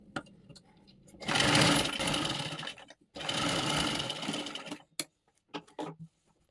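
A sewing machine stitching a princess-cut blouse runs in two loud, steady bursts of whirring, separated by a brief pause, then falls to a few scattered clicks and handling sounds, close by.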